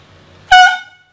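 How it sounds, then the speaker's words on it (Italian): A Palermo football club toy trumpet gives one short, loud, brassy blast lasting about a third of a second, alone, after near silence. "La trombetta del Palermo."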